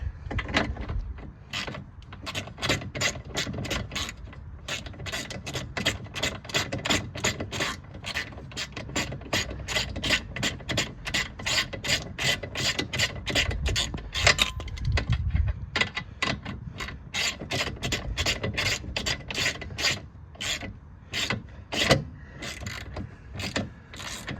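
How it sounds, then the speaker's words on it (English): A hand ratchet tightening the rear shock absorber bolts on a VW Beetle, a long run of rapid, evenly spaced metallic clicks with brief pauses between strokes, close and clear, with no talking. "Now we're ready to start tightening. I'm just gonna cinch them down at first before I get them tight."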